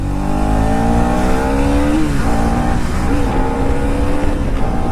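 A Kawasaki H2R motorcycle riding at high speed on a road: loud, sustained engine drone with rising and dipping pitch and wind roar, close and continuous.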